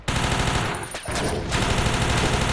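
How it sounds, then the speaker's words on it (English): MP5 submachine gun fire in the Battlefield Yugoslavia video game, a loud continuous automatic burst with a brief gap near the middle before firing resumes, dense and close. "But we have an MP5 submachine gun to make sure that they don't threaten us too much"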